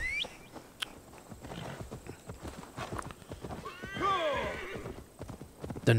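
Hooves clip-clop in a steady walk while a horse neighs and whinnies loudly midway, in the Assassin's Creed Valhalla video game, with game music and ambience underneath.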